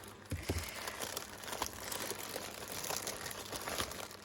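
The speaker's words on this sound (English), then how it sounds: "Oh wow, what a neat packaging. So let me cut it neatly as well." Packaging of a mailed parcel holding a steampunk journal being cut open and unwrapped, with steady close crinkling and crumpling of paper or plastic wrap and scattered soft crunches and tears, no talk.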